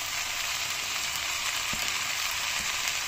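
Potatoes and sangri sizzle steadily in a pan, a dense, even frying hiss close up with a couple of faint stirring knocks, no voices.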